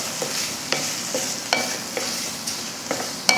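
Onion, garlic and coconut sautéed in a pan for a roasted-masala mutton dish, a soft continuous sizzle punctuated by regular scraping strokes of a spatula, close and fairly quiet, with no talking.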